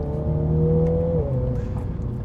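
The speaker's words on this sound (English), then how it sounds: "You can hear it's got a really nice trumpety kind of exhaust note to it and a bit of noise from the engine as well" Mini Clubman pulling hard after a downshift, its engine note climbing and then stepping to a new pitch, with a trumpety exhaust tone over steady engine noise. No one talks.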